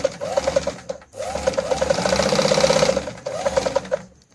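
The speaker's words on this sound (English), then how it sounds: "and when I sew through" A Toyota zigzag sewing machine stitching through fabric, a fast steady mechanical chatter of needle strokes running in two bursts with a short pause between, close and clear with no talk.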